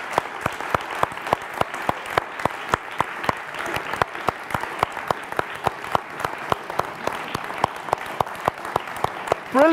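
An audience applauds a spoken word artist at an award celebration. Sharp, evenly spaced individual claps ring out over a softer bed of crowd clapping, keeping a steady rhythm throughout.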